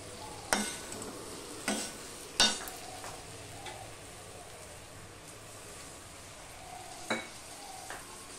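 Coriander, cumin and chili powder fry in a pan with a splash of water, a quiet steady sizzle punctuated by several sharp scraping stirs and clinks, close by with no talk.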